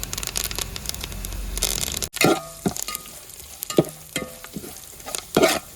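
Curry leaves dropped into hot oil for a sardine pickle, crackling and sizzling sharply up close, with stirring scrapes and sputtering bursts recurring through the pan's steady hiss.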